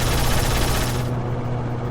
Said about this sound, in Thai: เสียงปืนมันเหมือนมินิกันครับผมยิง